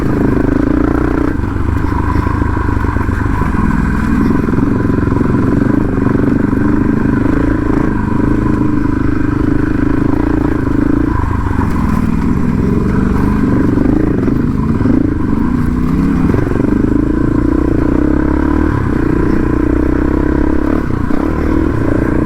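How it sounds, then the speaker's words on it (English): A Yamaha T7 adventure motorcycle labours along a rough Utah desert trail, its engine droning loud and continuous at close range with rattling clatter and scraping from the bike over uneven ground. "this motor's working hard"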